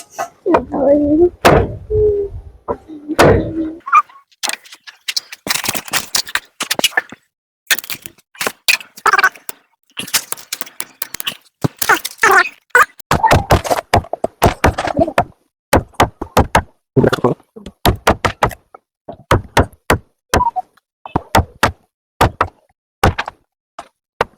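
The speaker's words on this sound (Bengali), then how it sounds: "এবার চিকেন গুলি কাটিং করব" A cleaver chops raw desi chicken on a board for a village-style potato curry, sounding as loud, sharp knocks in irregular bursts and runs of close thuds, with a woman's speech briefly at the start.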